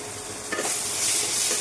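Tempering sizzles and stirs in a pan with tomatoes sautéing for egg kurma, a steady frying hiss swelling louder partway through, with faint spoon scrapes and no voices.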